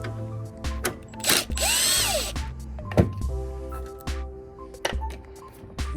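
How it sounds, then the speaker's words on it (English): A power drill unscrews the front panel of a Midea window air conditioner, with several short whirring bursts and clicks close by, separated by quieter handling noises. "You can use a regular screwdriver, you don't have to use a drill."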